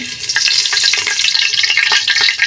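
A small torn bay leaf fries in hot oil in a pan, a loud close crackling sizzle with sharp pops and spits scattered irregularly over a continuous hiss, and no talking.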